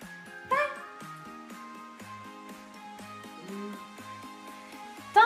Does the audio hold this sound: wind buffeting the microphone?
no